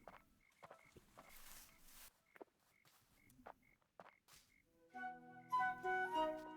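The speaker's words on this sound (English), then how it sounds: "You can hear the frogs down there." Frogs croaking in the video game Tiny Glade, repeated soft croaks spaced at an uneven rhythm amid quiet ambience and a few footstep-like taps, before gentle tonal music enters near the end.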